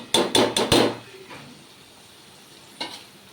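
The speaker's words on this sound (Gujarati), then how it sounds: "હવે આપણે આ પાલક નાખી દઈશું." Spinach goes into a pan of spiced potato curry with four quick, loud scraping clatters close by, followed by a faint steady sizzle and one last scrape near the end.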